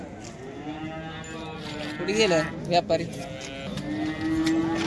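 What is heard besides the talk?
cows mooing at cattle market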